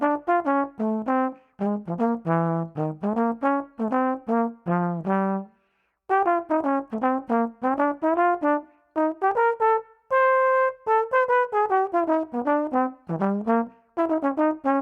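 Solo trombone plays jazz eighth notes in a deliberately separated, overswung way. Short detached notes come in quick bursts with brief gaps and a few longer held tones, close and clear with no talking.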